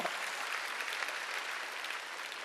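A congregation claps hands at an evangelistic gathering in Jeonju Indoor Gymnasium, a dense, even wash of applause filling the hall, soft and fairly distant, sustained throughout.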